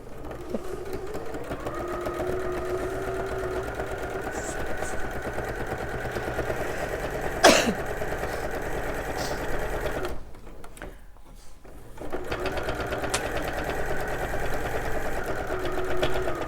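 A sewing machine stitches a seam on an apron dress in a fast, steady mechanical whirr and clatter, close by. It pauses briefly partway through, then runs on again.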